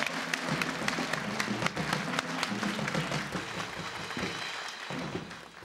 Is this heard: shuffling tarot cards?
no